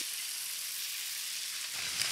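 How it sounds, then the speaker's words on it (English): An egg and home-cured bacon sizzle in a frying pan, a steady, close hiss of crackling fat with no voices heard. "It's just proper sizzling, real bacon."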